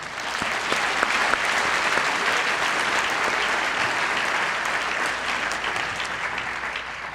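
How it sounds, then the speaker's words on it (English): Sustained applause from a banquet audience honoring 4-H award winners at an Arkansas awards ceremony, a dense, steady wash of many hands clapping throughout with no talk over it. "Let's give all tonight's winners another round of applause."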